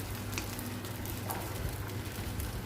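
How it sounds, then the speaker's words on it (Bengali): Fried rice is stir-fried on high heat, giving a faint, steady sizzle and hiss throughout with a couple of light clicks from the spatula. No one speaks over it. "একটু আগুনটা বাড়িয়ে সব কিছু তাড়াহুড়ো করে মানে জটপট নেড়ে ছেড়ে ভাজার মতো করে নিলেই ফ্রাইড রাইসটা ভালো লাগে"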